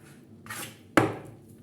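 Two knife strokes through raw chicken breast on a cutting board: a soft slicing swish followed by a sharper, louder thud of the blade hitting the board, close and alone.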